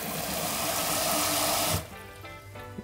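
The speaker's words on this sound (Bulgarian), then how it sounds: "И сега отново доливам студена вода." Cold tap water gushes steadily into a cooking pot to cover a beef tongue for boiling, a loud continuous splash that cuts off abruptly, leaving quiet kitchen clatter behind.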